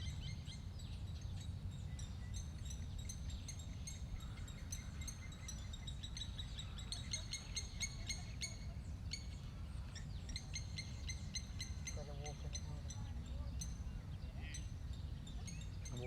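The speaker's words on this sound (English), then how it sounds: "Gosh, they're vicious, those birds." Birds call repeatedly with bright chirps and tweets over a low, constant rumbling background, faint and continuous with insect-like trills mixed in.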